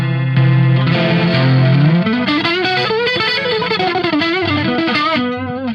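Loud distorted riff on a 1980s ESP Mirage Deluxe electric guitar with a boost engaged: a held chord slides into a fast run of picked notes and bends, close and continuous with no talking.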